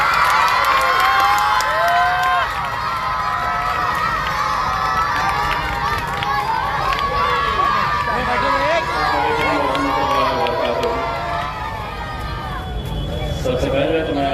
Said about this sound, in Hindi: जोरदार तालियों से इस्तकबाल कीजिए